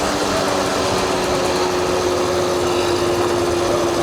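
A 1980 Honda Express vintage two-stroke moped buzzes steadily while being ridden, a constant loud high-pitched engine drone with wind noise and no change in pace.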